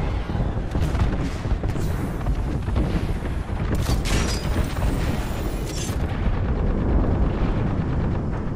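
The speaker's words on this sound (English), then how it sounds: "airstrike" Airstrike explosions in the Apex Legends video game: a loud, continuous barrage of booming blasts and rumbling impacts with crackling debris, overlapping one another for several seconds.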